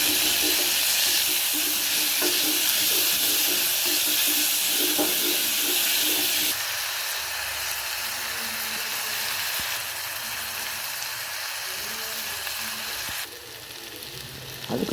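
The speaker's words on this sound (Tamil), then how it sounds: "கொஞ்சம் எண்ணெய் விட்டு கடுகு, உளுத்தம் பருப்பு தாளிச்சிட்டு கருவேப்பிலை போட்டுக்கலாம்" Mustard seeds, urad dal and curry leaves tempering in hot oil, giving a steady loud sizzle and hiss that runs throughout, shifting slightly as ingredients are added and stirred, with no talking.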